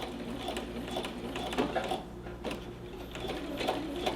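A sewing machine runs a long back stitch on fabric, a close, steady mechanical whir with regular needle clatter that pauses briefly and restarts, no talking.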